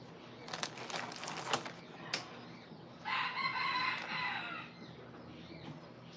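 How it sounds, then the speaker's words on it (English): Farmyard chickens cluck steadily close by while a rooster gives one loud, drawn-out crow partway through, with no talking. "I think we've had enough of the chickens"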